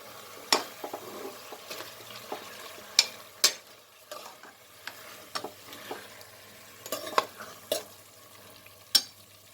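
Biryani masala for a kidney and liver biryani frying in a pan, with scattered sharp stirring scrapes and clicks over a low steady sizzle, close and moderately loud, no talking.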